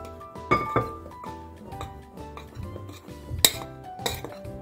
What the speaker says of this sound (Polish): I ciasto mieszamy drewnianą łyżką bądź silikonową szpatułką.